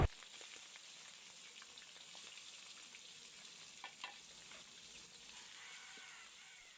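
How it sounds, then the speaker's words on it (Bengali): Fish roe frying in oil in a wok, giving a faint, steady sizzle with a few soft pops and light stirring, no voices. "প্রথমে আমি কড়াইতে পরিমাণ মতো তেল দিয়ে মাছের ডিমগুলোকে ভালো করে ভেজে নেব।"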